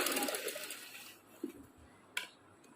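Sewing machine stitching a trouser seam, a whirring run at the start that trails off, followed by a couple of short clicks and knocks near the fabric.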